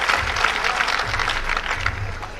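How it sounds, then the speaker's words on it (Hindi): Audience applause at a Hindi poetry recital (kavi sammelan), dense and steady clapping from a crowd sustained through the whole stretch with no pause. "मैं चाहता हूं एक बार बधाई की तालियां आप उसे जोरदार बजाएं"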